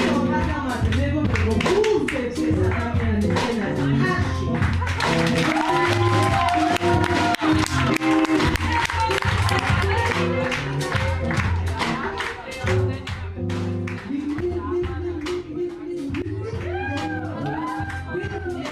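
Crowd clapping and cheering at a jazz performance during a Mardi Gras festival in Tbilisi, a dense, continuous patter of hands mixed with crowd noise and voices talking over it throughout.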